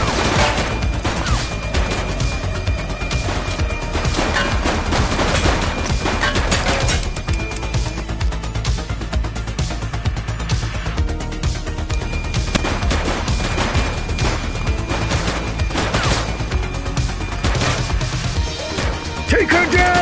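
Dense bursts of gunfire and crashes fill a police shootout in the video game The Precinct, loud and nearly continuous, with voices talking over the shooting.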